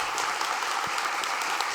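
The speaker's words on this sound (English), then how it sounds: "So now, let's see the applause meter once again." Dense, energetic audience applause at a learning-innovation conference session, a continuous crowd of clapping hands at close range driving an applause meter, with no speech over it.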